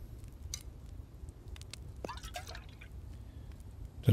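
Collecting water in the survival game The Infected: a short watery drip and trickle near the middle, with a few small liquid splashes afterward, quiet over a faint steady background.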